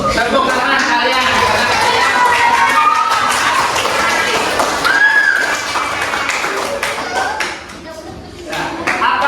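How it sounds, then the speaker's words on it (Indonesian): A classroom of children clapping their hands together in a loud, busy burst, with kids chattering over it before it tapers off near the end. "Tepuk tangan kalian."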